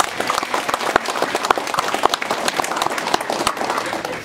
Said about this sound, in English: So a round of applause again to the workforce team.